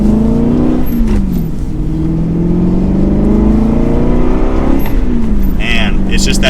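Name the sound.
Aston Martin Vantage GT naturally aspirated V8 engine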